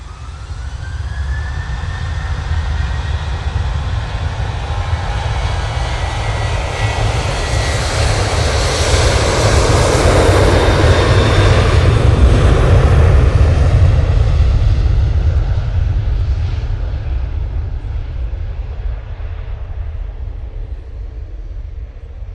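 A Ryanair jet spools up for departure to Dublin at Manchester Airport: a deep, loud engine rumble swells and rises to a roaring peak midway, then slowly eases off, with no talk.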